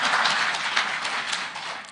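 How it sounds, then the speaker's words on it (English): An audience claps continuously at a banking event in Kenya, a dense, loud round of applause that fades slightly toward the end, with no talking. "I thought you would clap."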